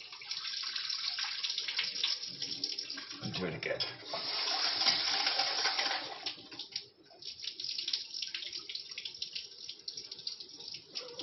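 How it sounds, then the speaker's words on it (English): Tap water runs steadily into a kitchen sink while a fish dish ingredient is rinsed and drained, a continuous hiss that swells and splashes mid-way, with a person speaking briefly over it. "Get rid of the water."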